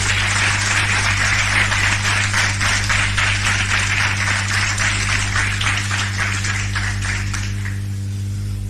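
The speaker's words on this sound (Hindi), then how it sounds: "एक बार ताली बजा दीजिए मनोज जी।" Sustained audience clapping in a hall fills the room as a steady, even patter of many hands over a constant low electrical hum, fading out near the end.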